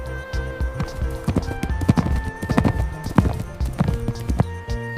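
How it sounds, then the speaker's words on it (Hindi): Horse hooves clip-clop in a lively rhythm, close and loud, while a horse neighs and whinnies over them, with music-like tones underneath. "ये देखो बच्चों, हॉर्स। हॉर्स को हिंदी में घोड़ा कहते हैं।"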